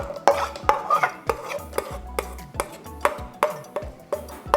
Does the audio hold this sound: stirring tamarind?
yes